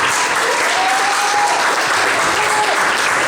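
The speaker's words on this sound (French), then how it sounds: "Vous pouvez les applaudir, ils sont forts." An audience at a French stage show applauds a pair of performers, a dense, loud, steady wash of clapping from a crowd that fills the whole moment without pause.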